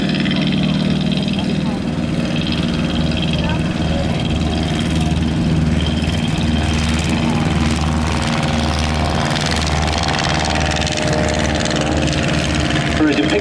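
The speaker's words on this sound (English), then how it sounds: "rolling out on the hard runway, and he's been told to stay on the hard runway" Engine drone of a First World War style propeller aircraft rolling out along a hard runway at an air display, steady and fairly loud throughout, with a commentator talking over it.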